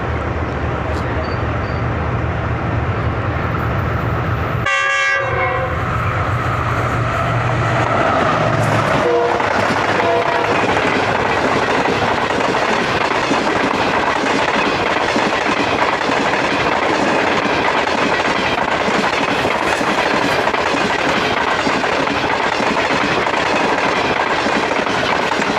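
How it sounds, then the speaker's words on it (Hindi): Shalimar Express train with new coaches passing close by on a rural line, a loud continuous rumble and rattle of wheels over rails lasting throughout, with a brief horn-like tone early on and a person speaking over it. "27 अब शालीमार एक्सप्रेस के थ्रू एक्शन को कैप्चर करने के लिए"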